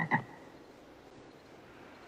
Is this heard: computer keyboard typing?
no